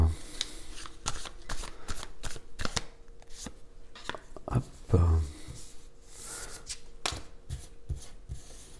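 Tarot cards are shuffled by hand at close range, with a string of quick riffling flutters and soft slaps between brief pauses.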